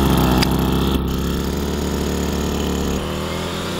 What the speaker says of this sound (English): That steel blade is going a whole lot faster than it looks.